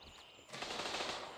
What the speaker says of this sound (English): I shot through the window. They're shooting back.